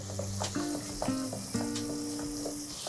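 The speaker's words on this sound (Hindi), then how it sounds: "और इसी में अब जाएगी दही, और इसके अंदर मिक्स करते करते हम एक बॉयल आने देंगे पहले" Yogurt cooking down in a pan for Rajasthani gatte pulao, with a steady sizzle broken by several spoon scrapes and clinks as it is stirred, close and fairly loud, with no voices.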